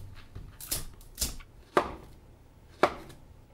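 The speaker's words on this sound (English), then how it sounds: "So I'm going to cut up the bananas before I make the meringue." A knife slicing bananas for a banana cream pie, four or five quiet, separate cuts knocking on a board at an uneven pace, close and alone.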